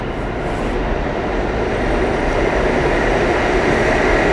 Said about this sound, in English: As we have express trains passing, I'm waiting for the local.